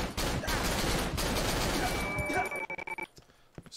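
Rapid gunfire from a weapon in the horror game Cry of Fear, a dense loud burst of shots lasting a few seconds, then breaking into a handful of separate fading shots and quiet.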